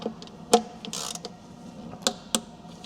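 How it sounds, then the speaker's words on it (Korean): A torque wrench tightens the oil drain bolt under a 2.2 diesel Kia Carnival Hi-Limousine to 40 Nm, giving a few sharp ratcheting clicks and metallic creaks, close and isolated, with no talk. "이것도 이제 조임 토크 40Nm 맞춰가지고 장착을 해보겠습니다."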